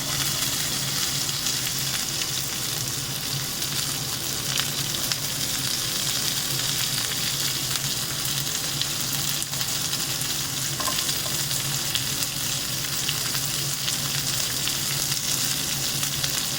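Onion for kanda batata poha frying in a pan, a dense, loud, continuous sizzle with stirring throughout and no talk.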